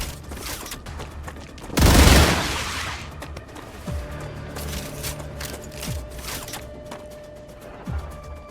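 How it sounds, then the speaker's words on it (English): A weapon reloading in the StarRupture video game: a loud burst of gunfire followed by clicking, ratcheting mechanical sounds and a few sharp metallic clacks, with a faint tonal hum underneath and no talking. "Reloading."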